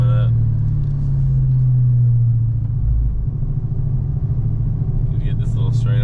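A Dodge Hellcat engine pulling in fourth gear, a loud low rumbling drone heard from inside the car that swells briefly and holds steady, with someone talking over it.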